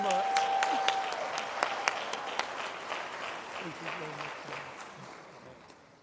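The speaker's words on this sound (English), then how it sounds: "Give him a round of applause." An audience at a global forum event applauds, strong and steady at first with a few sharp individual claps standing out, gradually fading toward the end under light crowd murmur.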